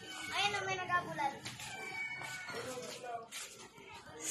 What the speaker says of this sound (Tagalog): Ang pusa.